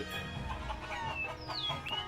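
Chickens cluck in the video game Shenmue III, with a steady run of soft, close clucks and a few short rising calls over a busy ambient game backdrop.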